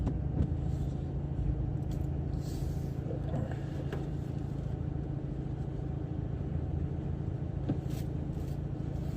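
A car rolls off a ferry in Helsinki over the ship's uneven anti-slip deck, a steady close engine and tyre rumble with faint knocks and rattles throughout.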